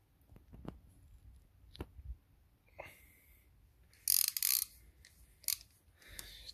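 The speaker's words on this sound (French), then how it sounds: "Je prends une clé 45 Torx T45 et je commence à desserrer." A wrench loosens a Torx T45 screw on a Clio 2 1.5 dCi engine, giving sparse metallic clicks and ticks, then a loud ratcheting burst and a few sharp clicks at close range, with no speech.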